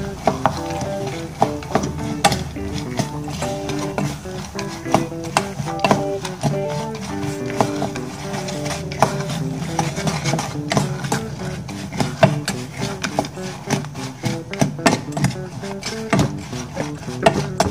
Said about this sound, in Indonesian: kacangnya matikan kompor, kita aduk